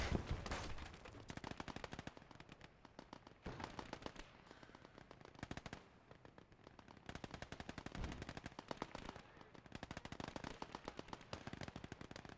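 Firefight in the World War II game Gates of Hell: rapid bursts of machine-gun and rifle fire crackle in dense volleys with brief pauses between, loud and sustained, no talking.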